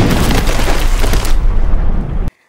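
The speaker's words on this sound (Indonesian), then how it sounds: "Atami masuk ke ladang ranjau yang membuatnya terkena ledakan" A landmine detonates in a film scene, a loud, broad blast with a dense rumbling roar that holds steady for about two seconds and then cuts off abruptly into silence.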